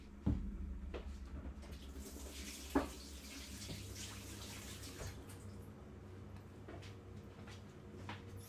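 Tap water runs steadily at a kitchen sink while a lime zester is rinsed under it, a continuous moderate splashing with one sharp clink near the start and quiet background noise throughout.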